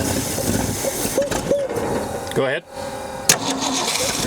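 Abandoned 1965 Mustang with a non-functioning carburetor, starter whirring in short bursts before the engine catches, roars briefly and settles into a rough idle, loud and close. A voice speaks briefly over it.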